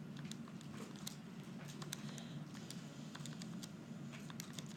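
Numbers keyed in on a computer keyboard, a run of light, uneven clicks and taps at close range over a steady low hum, with no talking.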